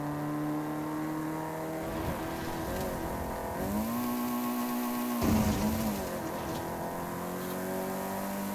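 A rally car in a racing video game drives with a steady engine drone, rising and falling in pitch as it revs and shifts through the run, loud and continuous with no talking.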